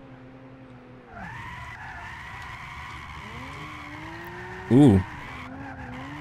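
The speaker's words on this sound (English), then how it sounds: "let's try see if we can initiate the drift with the handbrake instead of just with the weight transfer" Tires on a Lexus GS300 squeal in a long handbrake drift in Gran Turismo 6, a sustained, wavering screech over the engine note, with a short exclamation from a voice partway through.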